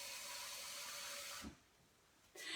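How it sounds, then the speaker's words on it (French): Tap water runs steadily into a container in a home kitchen while one-pot pasta is being made, a continuous hiss that stops briefly and then starts again near the end. "Parce que là, j'ai besoin d'eau. Alors, je vais remplir ça."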